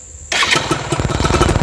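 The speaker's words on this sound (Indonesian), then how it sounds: "kalau kita hidupin motor," Yamaha F1ZR two-stroke underbone motorcycle being restored, its engine kicking into life after a quiet start and settling into a loud, close, rattling idle with a rapid pulsing beat.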